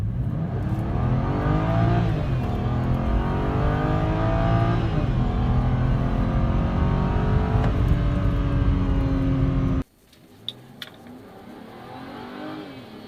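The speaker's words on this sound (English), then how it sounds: "The engine in this is a 3-liter straight 6, of course." A BMW 3-series with a 3-liter straight-six engine accelerates hard and loud for about ten seconds, pitch climbing through several gear changes, then cuts off abruptly to a quiet idle with a few faint clicks.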